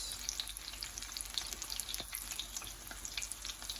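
Plantains browning in a stainless steel skillet, giving a soft, continuous crackling sizzle with fine spattering pops, quiet and steady throughout, no voices.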